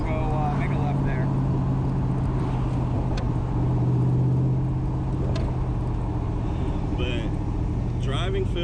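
Someone's light Cobra sports car with manual steering drives along, its engine producing a continuous low rumble at modest throttle, with brief higher whines, while people talk inside the car.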